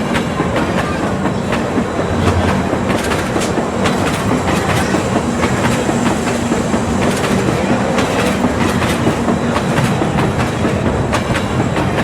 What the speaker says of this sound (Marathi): आपली जी ट्रेन आहे ठाणे स्टेशनच्या प्लॅटफॉर्म नंबर 7 वरून ऑन टाईम इथून सुटलेली आहे